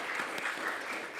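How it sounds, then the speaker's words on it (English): Conference audience applauding the panelists, a brief, dense wash of clapping from a seated crowd, fairly faint and distant. "maybe we'll give a big round of applause for all our panelists"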